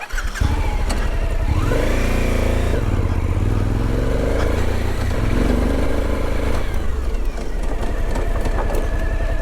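Suzuki V-Strom 1050 motorcycle braking on dirt with ABS set to level 2, the engine loud and close, pitch sweeping down and back up as the bike slows and pulls away again, with wind noise throughout.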